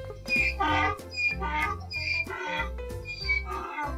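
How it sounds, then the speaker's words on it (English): A donkey brays close and loud in repeated harsh, honking cycles, the rhythmic hee-haw alternating between rasping inhales and buzzing exhales. "Donkey."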